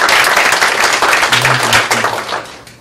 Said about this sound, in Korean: 자, 일단 박수 한번 주세요.